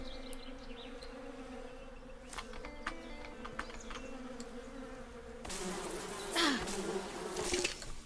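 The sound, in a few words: bees buzzing in a video game, Above Snakes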